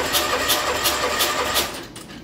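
A Kohler M18 engine cranks over during a cylinder compression test, giving a rhythmic chugging of about six even pulses that stops near the end.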